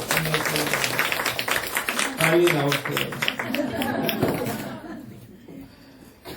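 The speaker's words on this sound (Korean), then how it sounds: "우리 아이들 위해서 한번 격려 박수 한번 하겠습니다." Church congregation clapping in encouragement for mothers and children, a lively burst of hands mixed with voices and chatter that fades to near quiet by the end.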